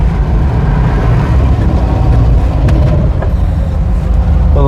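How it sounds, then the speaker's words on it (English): Road traffic rumbles past close by, a loud continuous low engine drone with passing vehicles and no speech. "Now it's traffic."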